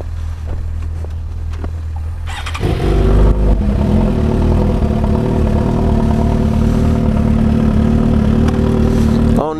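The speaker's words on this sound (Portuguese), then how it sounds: "Várias motos hoje rodando." Motorcycles, including a Honda and a BMW, rev and accelerate on a street at night, loud and close. A deep engine roar rises sharply partway through and holds steady.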